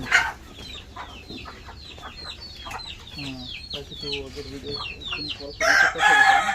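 Hens keep up a busy run of clucks and chirps nearby, then a rooster crows loudly at the end.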